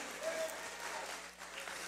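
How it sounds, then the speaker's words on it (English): A church congregation applauds the children in a steady, dense wash of clapping that carries evenly through the short stretch, with a faint voice or two underneath. "Let's give them a round of applause."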